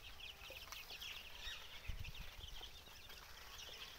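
Twenty-two-day-old desi chicks on a free-range chicken farm peep and chirp continuously in a busy flock, faint and steady with a few soft clucks and no talk.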